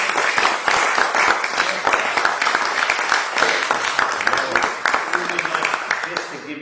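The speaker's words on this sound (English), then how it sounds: "we want a big round of applause" An audience applauding after a storytelling talk, sustained dense clapping at close range that fades out near the end, with a voice speaking over it.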